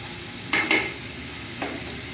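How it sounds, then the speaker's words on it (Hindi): Onions frying in a pan in a Dubai kitchen give a steady low sizzle, broken by two quick scraping taps and then one more, close by with no voices. "हम लोग अभी प्याज को फ्राई कर रहे हैं"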